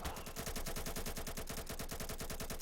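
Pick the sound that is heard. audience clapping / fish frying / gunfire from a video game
gunfire from a video game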